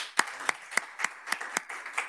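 Clapping closes a university professor's lecture at a Korean development institute event: about seven distinct, evenly spaced claps in a steady rhythm, fairly close and crisp, with no talk over them.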